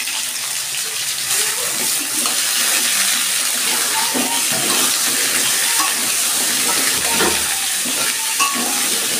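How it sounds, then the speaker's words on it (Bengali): Pumpkin pieces frying in a pan for a vegetarian home recipe, a continuous loud sizzle with occasional stirring scrapes and bubbling crackle close by. "আমি কুমড়োটা ভেজে নিচ্ছি"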